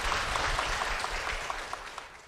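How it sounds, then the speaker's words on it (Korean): A studio audience at a church broadcast applauds as guests are welcomed, a steady, moderately loud clapping wash with a few sharper claps poking through, continuous across the short span. "박수로 모시겠습니다"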